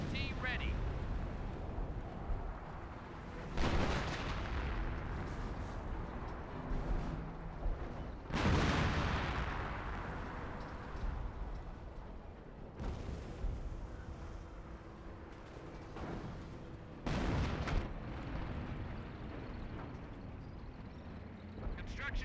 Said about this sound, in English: And the M2s barraging over there. Or maybe some 25-pounders.